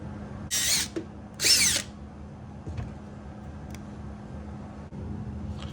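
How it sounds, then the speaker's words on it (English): Two short bursts of a power drill boring holes through a Kydex plastic knife sheath, close and sharp, separated by quiet handling sounds. "We're gonna drill them out."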